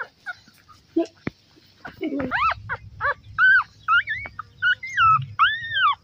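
Several high, wavering whimpers and whines from young beagle puppies, arriving in short repeated bursts over a low background rumble.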